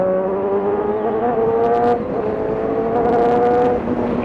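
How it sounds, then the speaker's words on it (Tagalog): A car passes during a point-of-view ride on a Suzuki GSX-R1000 motorcycle along roads in Aurora Province, Philippines, heard as steady engine tones that shift in pitch under continuous wind and bike drone, with no talk. "May kotse ha. May kotse, may kotse."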